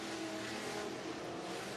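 Classic race cars roar down the back stretch at Tazewell Speedway in Tazewell, Tennessee, a dense, steady engine drone with broadband noise, faint and distant, continuing without a break and with no voices.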